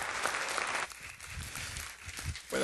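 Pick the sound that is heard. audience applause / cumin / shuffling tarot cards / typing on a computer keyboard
audience applause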